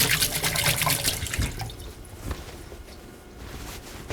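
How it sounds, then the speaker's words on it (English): Tap water runs over hands at a kitchen sink while a pie is being made, a steady close splashing that fades and thins toward the end. "Okay, rinse my hands."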